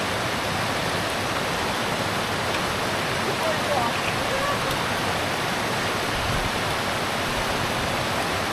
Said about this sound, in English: Pretty stream down there with a nice little waterfall.